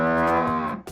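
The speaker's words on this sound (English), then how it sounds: "It's a cow!" A cow lets out a single loud, close moo, a rich sustained bellow lasting nearly a second before trailing off, with no talking.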